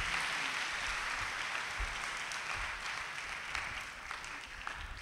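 A church congregation at a Confirmation service on the Feast of St. Anthony gives continuous applause for the young confirmation candidates, a dense, even wash of clapping that fades slightly toward the end.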